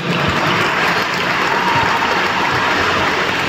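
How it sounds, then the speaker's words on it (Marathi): Steady, loud applause from an audience at a felicitation ceremony in Nanded, a dense wash of clapping that holds evenly throughout with no voices on top. "त्याच्यासाठी एकदा जोरदार टाळ्या वाजवा"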